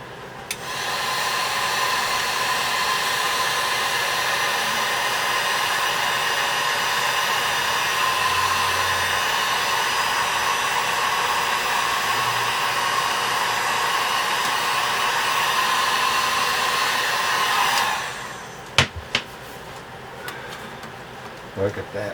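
Hot air gun blowing steadily on damp wood binding as it is bent around a guitar corner, a loud continuous whoosh lasting most of the clip before cutting off, followed by a few small clicks.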